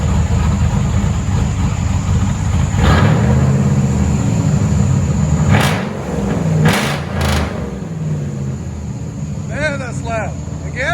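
GMC Sierra 6.0L V8 with straight pipe true dual exhaust and dumps, a deep rumbling idle with a few sharp revs and pops, while people talk nearby.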